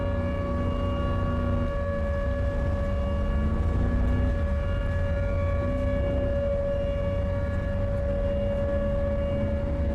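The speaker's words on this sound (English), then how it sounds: "I'm gonna move away from the siren." A tornado siren in the video game Tornado: Research and Rescue wails steadily and loudly for the whole stretch, its sustained droning tone rising and falling slightly in pitch, with no talk over it.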